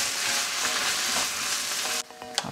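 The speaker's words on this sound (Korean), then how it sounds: "밑간 해두었던 고사리와 토란 줄기를 살짝 볶아줍니다" Seasoned bracken and taro stems stir-fry in a frying pan with a loud, steady sizzle and scraping stirs, then the sizzle drops suddenly and a few clinks follow near the end.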